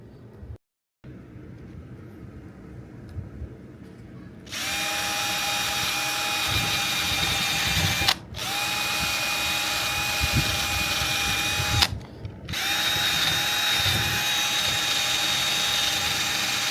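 A power drill fitted with wet and dry abrasive paper sanding a car's tow ball, high-pitched whining runs in three long bursts with brief pauses between, loud and close, after quieter handling sounds.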